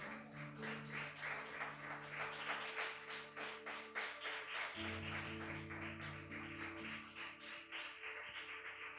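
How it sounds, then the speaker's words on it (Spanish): A church congregation claps together in a steady, dense stream of applause for several seconds, with a low sustained tone running underneath. "un fuerte aplauso al Rey de Reyes"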